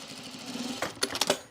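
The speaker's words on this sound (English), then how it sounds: "If you want to top stitch the lower fly, do that." Sewing machine topstitching the lower fly of pajama bottoms, a soft quick mechanical patter that builds into a few sharper close bursts of stitching, heard alone.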